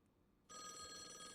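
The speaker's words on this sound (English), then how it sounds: "Oh, phone's ringing." An electronic telephone ring from the video game Call of the Elder Gods starts abruptly after near-silence and continues as a steady, sustained tone at moderate level.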